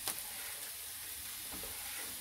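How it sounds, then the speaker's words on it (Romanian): Finely chopped onion fries in a little oil in a pan, giving a close, steady sizzle with soft crackles and brief stirring scrapes, heard alone without talking. "Ceapa mea a început să prăjească"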